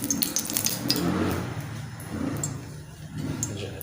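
Ghee spread to grease a pan while making Tunday galawati kababs, heard as light metallic scrapes and clinks of a utensil on cookware, close and fairly soft.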